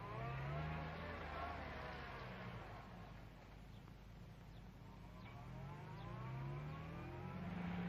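A 1961 Jaguar motor car's engine runs on a test drive, a low, even rumble that swells and eases as it moves, heard from fairly close with a faint wash of outdoor noise.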